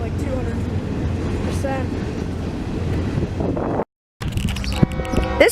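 Freight train running light power out of a rail yard in Marion, Ohio, a low rumbling roar mixed with heavy wind buffeting on the microphone, briefly cutting out before louder clanking resumes.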